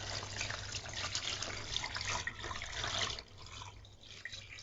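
Chicken leg pieces, scored with cuts, are dipped into water in a kitchen, producing a steady close splashing and trickling that eases off toward the end, with no talking.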